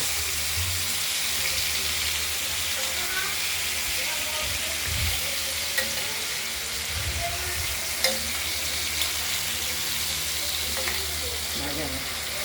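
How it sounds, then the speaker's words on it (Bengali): Pieces of rohu fish frying lightly in a wok, a continuous loud sizzle and crackle close by, with occasional stirring clinks and scrapes. "আমরা রুই মাছগুলো পিস করে কেটে নিয়েছি এবং এগুলোকে হালকা কড়াইকে ভেজে নেব"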